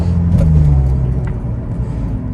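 A 2017 Ford Fusion cruises on light throttle, a loud, steady low road rumble and engine drone from inside the cabin, easing slightly after the first second, with no talking.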